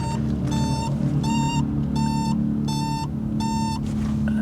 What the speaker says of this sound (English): That buzzer sounds really ill.